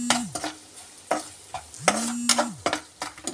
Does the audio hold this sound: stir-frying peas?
yes